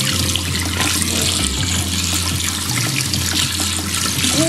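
A toy figurine is dipped and splashed in toilet water, heard as continuous loud sloshing and running water close by, with no voices.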